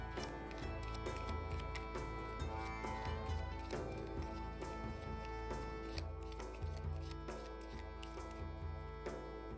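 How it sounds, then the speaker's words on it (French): Bristol 1350 board game cards are mixed together, producing a run of light papery flicks and taps over steady background music. "On rajoute maintenant les cartes 4 au paquet restant, on mélange le tout"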